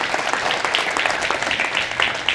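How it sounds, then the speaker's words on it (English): An audience at a live tech event applauds, dense continuous clapping from a crowd that holds steady for a couple of seconds. "Give him a round of applause."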